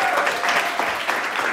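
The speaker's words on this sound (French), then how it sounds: "On applaudit." An audience applauds steadily for a short burst, dense clapping filling the room without a break.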